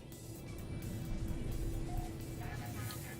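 Starships fly around in No Man's Sky, giving off a steady, car-like engine drone with a low hum and a faint tonal whine, holding fairly constant and close throughout.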